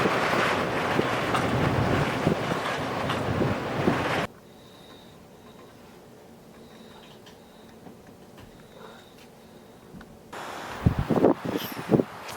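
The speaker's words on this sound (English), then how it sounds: "Look at that wind blowing off of Lake Superior." Wind blows in off Lake Superior on a snowy day, roaring and buffeting the microphone in loud gusts. A calm stretch follows before the gusting returns.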